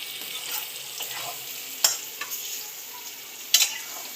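Peanut-stuffed brinjal curry is stirred in a hot pan, with a steady oily sizzle and soft scraping from the spoon, plus a couple of sharper clinks against the pan, close and alone.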